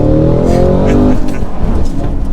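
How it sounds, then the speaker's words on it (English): A 2022 Cadillac CT5-V Blackwing with a supercharged V8 and manual gearbox on winter tires launches hard, its engine roaring loud and close, rising in pitch and then breaking into rougher, fluttering power as it accelerates. "I'm just going to mash the throttle and dump the clutch"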